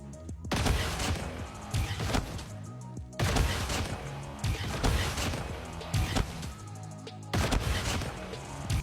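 Gunfire in the mobile shooter Call of Duty Mobile, loud repeated bursts of shots in clusters with short gaps, close and continuous across the stretch with crashing impacts.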